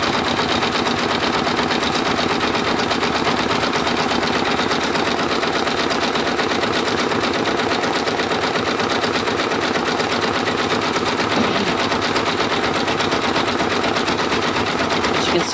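An embroidery machine stitches lettering onto a rain jacket hood with a fast, continuous mechanical chatter that stays close and steady throughout, with no pauses.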